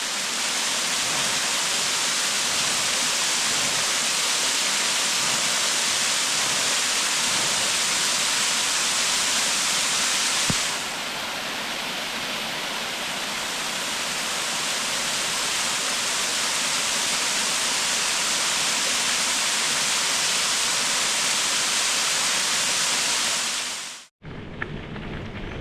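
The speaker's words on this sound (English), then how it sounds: "All right, another waterfall." A waterfall beside a cycling trail on the Great Allegheny Passage gives a loud, steady, close-up roar of rushing water that runs without a break for most of the clip, then cuts off abruptly near the end.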